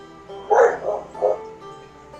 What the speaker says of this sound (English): the dogs won't stop barking